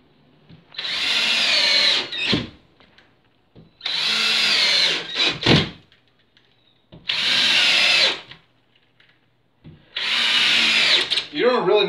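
A power drill drives screws into the wood behind a drywall patch in four separate bursts, each about two seconds long, close and loud, with short gaps of near silence between them.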